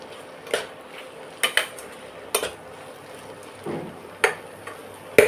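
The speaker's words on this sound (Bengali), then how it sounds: "সব চিংড়ি মাছগুলো এর মধ্যে দিয়ে দিলাম এবার দিয়ে আবার একটু এর মধ্যে মিশিয়ে নেবো চিংড়ি মাছগুলো" A utensil clacks and scrapes against a pan as prawns are mixed into cooking taro stolons. The knocks are sharp and irregular, close and moderately loud, spaced over a few seconds with soft sizzling between them and no talk.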